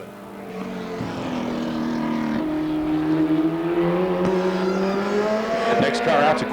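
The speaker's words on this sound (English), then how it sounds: "Next car out to qualify in car number 31, the Trent Shoring Empire Asphalt Stay-Right sponsored midget." A USAC midget race car qualifying on an oval track, its engine droning with rising and falling pitch as it laps, growing louder and nearer over several seconds, with a sharp pop near the middle.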